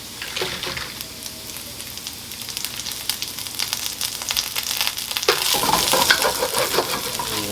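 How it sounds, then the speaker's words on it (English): Three stalks of scallion with ginger sauté in a hot wok, a steady sizzle with stirring scrapes that swells louder after a fresh addition late on. "you want to saute for about a minute. It's about 3 stalks of scallion."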